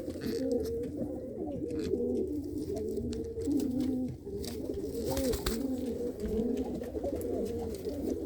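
Many pigeons coo steadily and overlap in a busy loft, where a flock of spotted and patterned birds returns after a day of flying. The murmuring is continuous and close, with occasional light rustles and no voices.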